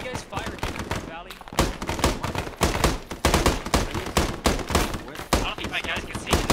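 Dense, loud gunfire from the military shooter Arma 3 rings out in repeated sharp shots and bursts at irregular intervals throughout, with a brief lull early on.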